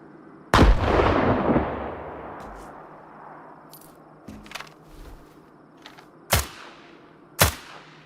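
Grenade blast in STALKER 2, one loud close explosion that booms and slowly rolls away, followed by a few sharper gunshot-like cracks spaced out over the following seconds.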